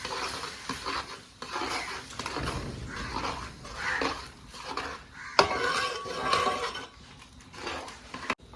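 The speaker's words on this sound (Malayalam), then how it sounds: "ഇനി ഒന്നുകൂടി നല്ല ഇളക്കുക." A spoon stirs vegetable kurma in a pot, making repeated scraping and clinking strokes in an irregular rhythm. One sharper metallic knock sounds partway through, and there is faint background noise.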